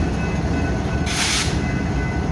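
A BNSF freight train led by ES44C4 and Dash 9-44CW locomotives rolls past, a steady broadband rumble of wagons and wheels with a brief louder hiss partway through, no talking.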